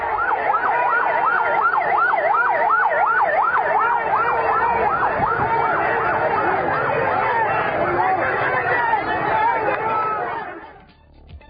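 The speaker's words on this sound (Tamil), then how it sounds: "இந்த நிலையில் ஆம்புலன்ஸ் மருத்துவமனைக்கு வந்தது." An ambulance siren wails in a fast, repeating up-and-down cycle as it arrives at a hospital, loud and steady for about ten seconds before fading, with crowd chatter underneath.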